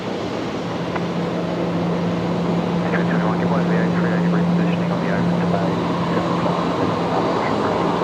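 A jet aircraft at Brisbane Airport at night gives a steady, continuous engine roar with a droning hum, heard at a distance without voices.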